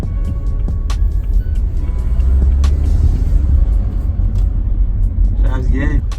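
BMW F30 sedan on a first test drive, heard from inside as a steady low engine and road rumble throughout, with brief clicks and a faint beep near the end.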